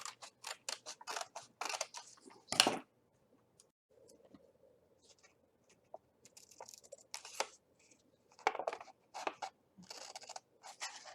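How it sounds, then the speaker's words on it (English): Scissors snip paper as small triangles are cut out of a paper mandala art project, giving a run of sharp, close, rapid clicks and crunches in bursts with short pauses between them. "And then I just cut all those little triangles out."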